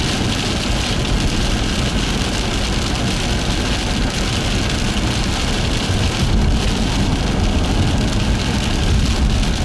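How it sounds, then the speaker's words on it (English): Heavy rain pounding on a moving car during a severe storm chase, a loud, constant dense roar of drops on the roof and glass with the engine and road noise underneath. "I don't want to drive through the heavy rain."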